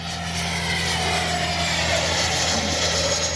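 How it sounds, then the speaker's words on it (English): Freewing 90mm Zeus electric ducted-fan RC jet on a 6S battery roaring at full throttle, a steady loud whine with a low droning hum, sustained and close throughout. "now I'm hitting full throttle now"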